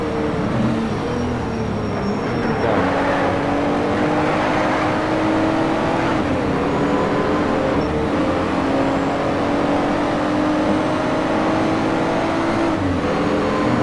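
A Porsche race car in the racing game Need for Speed Shift gives a loud, steady engine drone while overtaking in a race, its pitch climbing gradually without a break.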